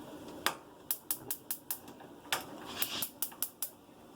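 Stove knob being turned up under a pot of water, a quick series of sharp, close igniter clicks in an uneven rhythm, about a dozen snaps over a few seconds with no talking.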